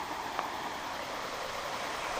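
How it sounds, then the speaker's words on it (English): Small waterfall trickling among trees in the bush along the Te Araroa trail, a steady soft broadband rush of falling water, fairly faint and continuous, with no talking. "there's even a little waterfall in amongst the trees there"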